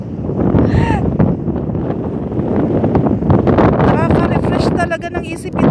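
Strong wind at the seashore buffets the microphone with loud, continuous rumbling gusts, and people's voices break through in the background.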